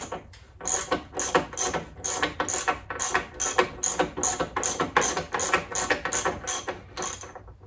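A ratchet backing off the top nut of a Harley V-Rod front fork during restoration, giving rapid, even clicking strokes in a steady rhythm, close and loud, with no talking.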